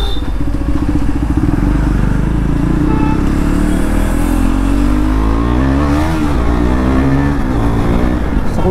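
Loud, close KTM Duke 390 (2023, modified) motorcycle engine revving continuously in an underpass, the pitch rising and falling as the throttle opens, echoing in the enclosed space.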